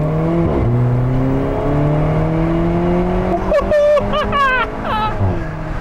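Alfa Romeo 4C Spider engine under way, a loud steady drone with rising pitch as it accelerates, then sharp rapid gear-change revs and a brief throttle blip near the end.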